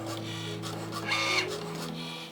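A Cricut machine fitted with a knife blade cutting a wood piece held on a strong grip mat, giving a steady mechanical whir with brief motorized carriage movements, heard alone.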